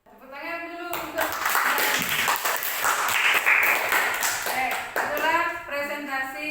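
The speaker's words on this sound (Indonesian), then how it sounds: "Tepuk tangan dulu untuk" A classroom audience applauds a group presentation on student fights with brisk, sustained clapping, while voices talk over the applause at the start and end.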